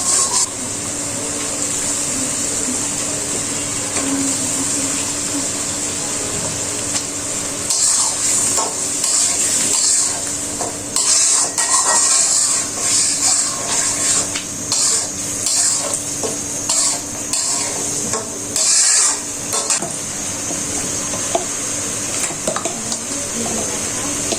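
Boal fish frying in a pan of ground spice paste makes a continuous sizzle with frequent stirring scrapes, growing louder and more crackly partway through and staying busy until the end.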